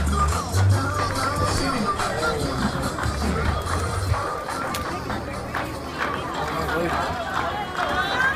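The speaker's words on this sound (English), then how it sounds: "That is the Gibbons crowd you're looking at." A large crowd at a high school playoff game, Cardinal Gibbons versus Monsignor Pace in the District 5A regional finals, fills the space with steady loud hubbub and chatter, with a deep rumble early on and announcer talk over it.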